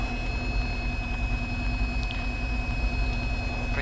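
A light aircraft's piston engine runs steadily at 1200 RPM, a constant low drone with a faint tonal whine, holding level and unbroken throughout.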